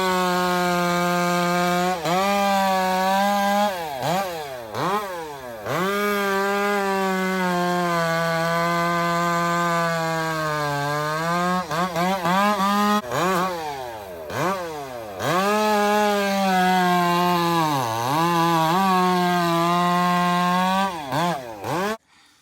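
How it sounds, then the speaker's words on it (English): An 86cc chainsaw cuts through wood, its engine screaming loud and close, dipping in pitch as it bogs into the cut and revving back up between passes, with no voices. "That's an 86cc power saw."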